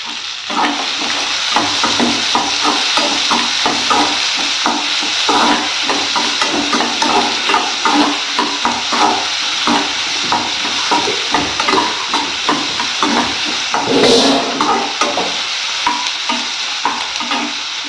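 Plenty of onions fry and sizzle in a hot pan for chicken Chintamani, a loud continuous crackling hiss broken by steady scraping and stirring strokes close up, with no talk.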